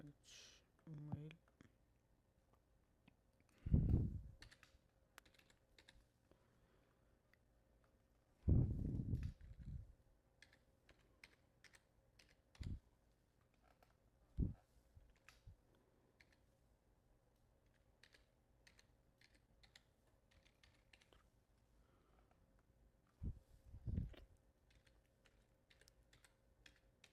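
Someone types a name into a sign-up form on a computer keyboard, producing soft, scattered key clicks in short bursts, with quiet speech heard in between.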